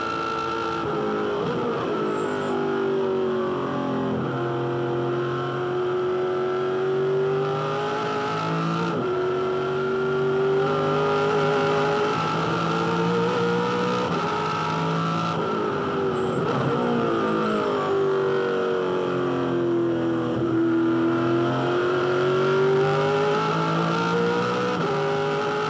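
A V8 Supercar heard from onboard during a 2006 race at Perth, its engine roaring loud and steady, with rising and falling pitch through gear changes and corners across the whole stretch.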